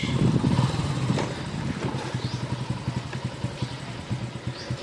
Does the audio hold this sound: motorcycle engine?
yes